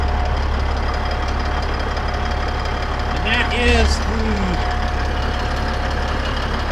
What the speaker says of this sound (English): it's a little noisy, got the truck running